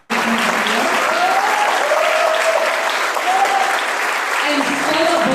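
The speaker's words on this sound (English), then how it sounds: "I would like you to give a round of applause for Sharon Burton Turner" A jazz symposium audience applauds loudly and continuously, dense clapping filling the room, with a voice faintly audible beneath.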